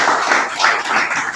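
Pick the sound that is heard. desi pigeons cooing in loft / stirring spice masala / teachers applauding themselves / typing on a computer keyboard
teachers applauding themselves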